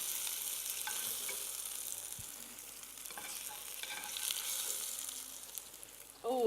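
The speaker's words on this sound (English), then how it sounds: "So it's deglazing, so it's intensifying the flavour." A pan is deglazed with sauce, giving a quiet steady sizzle with faint scraping and stirring clicks, close but soft, ending in a brief louder clatter.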